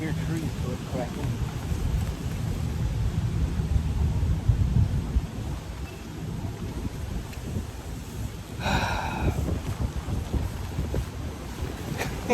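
A thunderstorm rolls over a big muddy ditch during a fishing trip, bringing low rumbling thunder and steady gusting wind and rain noise, fairly faint and continuous, with a brighter burst of crackle midway.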